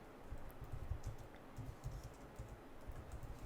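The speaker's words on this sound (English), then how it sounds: "just go and type right over it." Steady keystrokes on a computer keyboard, quick and irregular clicks close by, alone with no talk, while text is typed into a chart title in a spreadsheet.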